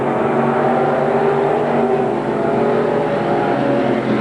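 ProStock race car on the Merrittville oval track in 1989, a loud, sustained engine roar held at high revs with a strong harmonic drone, close and continuous, no speech over it.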